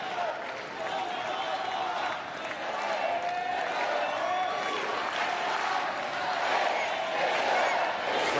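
The French crowd at a wheelchair tennis match in Suzanne Lenglen Stadium keeps up a dense, sustained roar of cheering and chanting. The loud wash of voices fills the whole stretch with rising surges.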